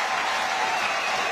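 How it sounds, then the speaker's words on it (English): A rugby crowd at a women's Premier 15s final between Gloucester Hartpury and Exeter Chiefs applauds a player, a steady loud wash of clapping throughout. "It's been superb atmosphere as Maud Muir gets a big clap from"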